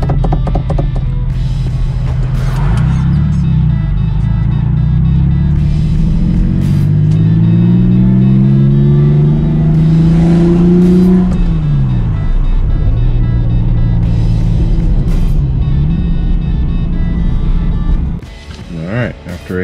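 Porsche 996 GT3 engine with a GT3 shifter on a test drive, loud and steady throughout, rising in pitch through the gears with shift breaks, and a voice speaking over it near the end.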